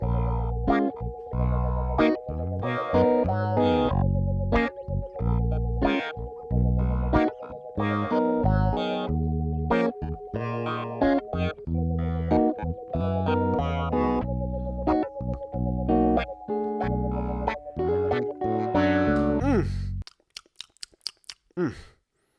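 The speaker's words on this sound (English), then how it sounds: "the clav comes in the second half of the second verse, and it sounds like this" A funky clavinet part sits in a dense beat with bass and guitar, playing a steady chunky rhythm of short percussive notes throughout before the groove cuts off near the end into a few scattered hits.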